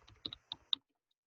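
A few quiet, close keystrokes on a computer keyboard, four or five distinct clicks in quick succession, followed by silence.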